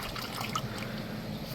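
A small creek trickles and babbles softly and steadily close by, with a faint gurgle of running water and no voices.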